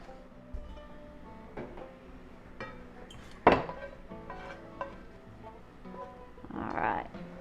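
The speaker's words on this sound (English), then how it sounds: "just going to scoop the vegetables and put on top" Vegetables being scooped from a pan onto chicken for Monterey chicken, with scattered clinks and scrapes of a utensil against cookware and one sharp knock, spaced irregularly and close by.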